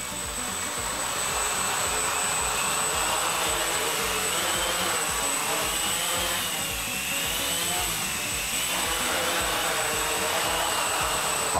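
Homemade quadcopter lifting off its stand for its first flight, a loud, constant high-pitched buzzing whine of spinning propellers and motors filling the whole stretch, close by with no talking.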